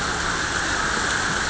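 A steady downpour of heavy rain in Borneo, loud and unbroken, a close broadband hiss filling the whole moment.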